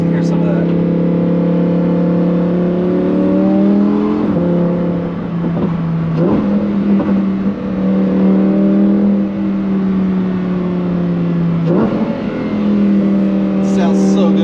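Lamborghini engine heard from inside the car while driving, a loud steady drone whose pitch climbs and drops with revving and downshifts, with a person talking over it.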